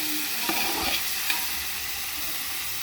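Ginger paste, garlic paste and chopped tomato are stirred in a hot pan, giving a constant close sizzle with a few soft scrapes and clicks near the start.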